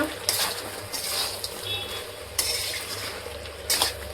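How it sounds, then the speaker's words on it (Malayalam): Chicken masala stirred in a frying pan with a utensil, soft scraping and clinks against the metal over a steady close sizzle, with occasional sharper knocks. "കുറച്ച് ഇളക്കി കൊടുക്കുക"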